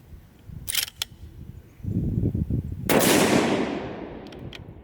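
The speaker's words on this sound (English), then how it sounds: "We're gonna shoot at the bottom left diamond on this group here." A single sharp report from a hot Ruger M77 Mark II rifle in .22-250 firing factory ammunition, loud and close with a long decaying tail, preceded by a few light mechanical clicks and handling rustle.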